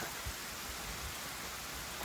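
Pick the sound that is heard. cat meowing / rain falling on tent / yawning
rain falling on tent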